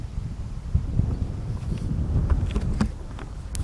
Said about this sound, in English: It's another windy day, as usual